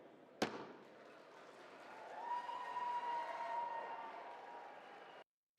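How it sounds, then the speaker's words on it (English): A sharp bang, then a swell of cheering and clapping after a vote on Capitol Hill, with a faint sustained tone, cutting off abruptly. "The moment of the vote, cheers and applause today on Capitol Hill."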